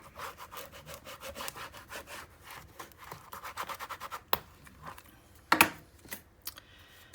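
Paper on a Graphic 45 Autumn Greetings mini album is burnished with quick, rhythmic scraping strokes. The strokes are quick at first, then slow and spread out, with a couple of sharp clacks near the end.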